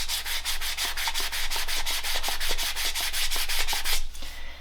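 Fine grit sandpaper rubbed over leather in rapid back-and-forth strokes, close and steady for about four seconds, with a faint low hum underneath.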